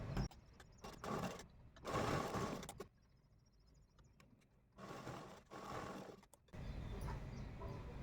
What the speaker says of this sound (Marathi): शोल्डरला शिलाई मारून घेते